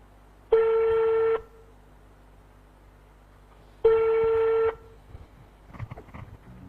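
A telephone call rings unanswered: two long, loud electronic ring tones separated by a pause of about two seconds, followed by faint fragments of sound.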